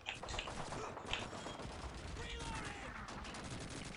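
Video game gunfire crackles in rapid bursts, a dense mix of shots and impacts that continues throughout and rises in places, with the sharpest shot just after one second.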